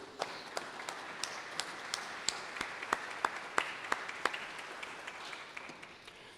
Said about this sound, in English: a round of applause to everybody who contributed